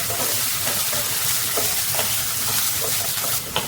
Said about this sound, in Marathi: आता आपण यामध्ये बटाटा घालूया तीन ते चार मिनिटं परतून घेऊया